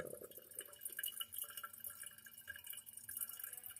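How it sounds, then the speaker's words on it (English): Faint, continuous trickling and dripping water with a steady hiss from a leaking gasket on a Kohler toilet after a flush, close by and fairly quiet, with no talking. "I hear the gasket leaking this time"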